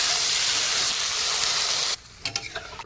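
Water poured into a hot pan of spiced curry hisses in a loud, steady sizzle for about two seconds, then breaks off into a few quieter bubbling spits and clinks.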